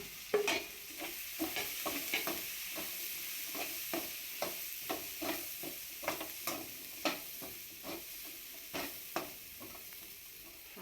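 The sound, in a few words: biryani masala and spices frying and stirred for paneer pulao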